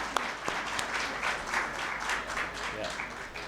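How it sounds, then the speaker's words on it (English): An audience at a schooling conference in Lahore gives warm, steady applause to welcoming students, a dense wash of clapping with a few sharper claps near the start. "So please give them a very warm round of applause and make them feel welcome."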